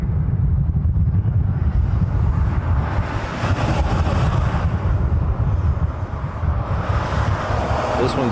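A Boeing 717 airliner taxiing at a Hawaii airport gives off a continuous broad jet roar from a distance, mixed with wind buffeting the microphone, steady throughout with no clear break.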